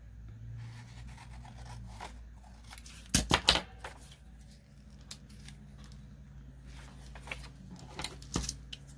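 Scissors cut paper while journals are made for a craft market booth, giving a few sharp close snips in a quick cluster near the middle, with scattered fainter rustles and clicks around them.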